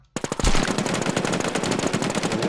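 Rapid automatic gunfire in the zombie shooter NewZ crackles in a dense, close burst of shots that rattles on continuously after a brief quiet start.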